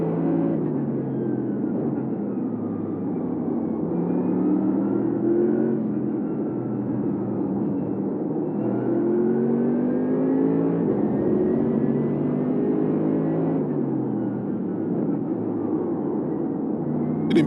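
Race cars roar steadily through a race, engine notes rising and falling in long smooth sweeps as gears shift, with a dense continuous mechanical drone and no speech.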